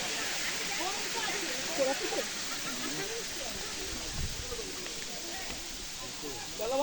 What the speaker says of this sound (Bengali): উপর থেকে, সেগুলো গড়িয়ে আসে এই পাহাড়ি ঝর্ণা বয়ে